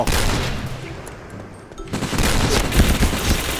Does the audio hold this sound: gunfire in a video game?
yes